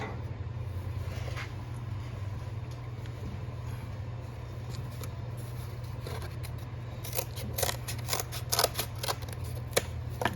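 Snips cut and trim sheet metal from the body of a 1961 Impala four-door hardtop, with quiet scattered snips at first and then a faster cluster of sharp cuts over a steady low hum.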